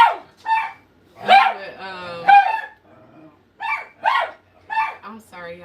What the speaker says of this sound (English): My dogs is playing.